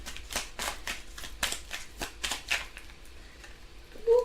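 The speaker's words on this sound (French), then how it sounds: "Et on va prendre une dernière carte." Tarot cards being shuffled in a quick series of close, crisp riffling bursts, followed by a single card drawn, with a brief voice near the end.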